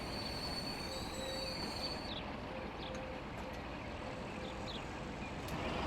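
EMT train in Transport Fever passing through a station, a steady rumbling rolling noise with a few faint squealing and beeping tones on top, continuous and fairly soft throughout.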